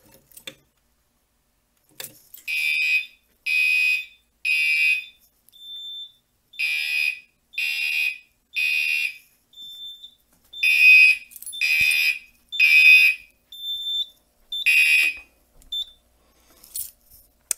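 A Simplex 4010 fire alarm panel sounds its alarm in a series of loud, repeated electronic beeping bursts in steady groups, with brief quiet gaps between them and no talk.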